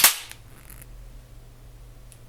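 The mechanism of a SIG P210 Blue Helvetica pistol snaps once with a sharp, bright metallic clack, followed by near silence and a faint second click.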